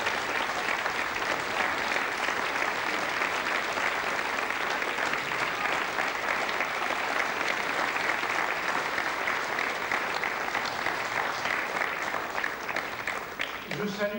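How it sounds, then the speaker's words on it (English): Steady, dense applause from an audience at an Ariane rocket launch event honoring a departing official, sustained at an even level for over twelve seconds before tapering at the end. "So let's applaud him before he leaves."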